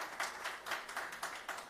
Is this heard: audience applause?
yes